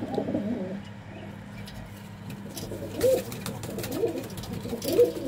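Pigeons coo softly in repeated low, throaty calls, a few bursts spread across several seconds, fairly close in a quiet outdoor setting with no voices.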